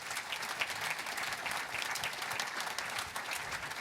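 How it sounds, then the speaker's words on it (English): An audience applauds a panel of speakers with dense, sustained clapping from a crowd, steady in level throughout. "let's give our panel a round of applause"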